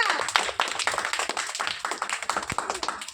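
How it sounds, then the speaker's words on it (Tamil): An audience at a Bible school celebration day claps for a Bible test winner, giving fast, dense, continuous applause from many hands nearby, with no talking over it. "கை தட்டுங்க நல்லா"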